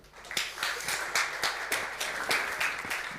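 A conference audience applauds a guest welcomed onto a festival stage at a tech event, with steady, moderately distant clapping and rhythmic peaks, no voices over it.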